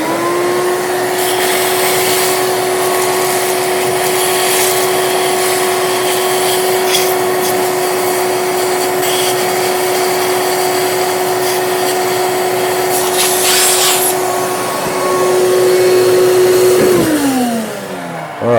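A shop vacuum sucking metal swarf out of a freshly milled slot, running as a loud, steady whine up close, with occasional rattling bursts as chips get drawn in, then spinning down at the end.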